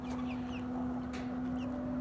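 Soft clucking and faint chirps of chickens and chicks on a village farm sound under a constant electrical hum, at moderate distance.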